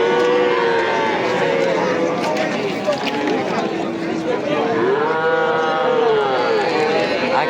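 Calves and cattle lowing at a busy livestock market in Kitob, Qashqadaryo, with repeated loud moos from several animals overlapping a steady background of crowd voices and people talking.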